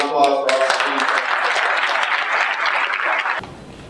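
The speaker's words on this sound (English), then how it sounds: "Please, a round of applause for Officer" Audience at a police awards ceremony breaking into applause, starting abruptly and sustained as a full dense clapping for about three seconds before cutting off, with brief talk near the start.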